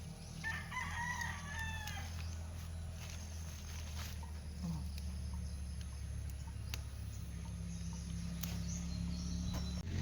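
Backyard chickens with a rooster crowing out in the open, a crow rising at the start over a steady low hum and ambient noise, with faint scattered clucks afterward.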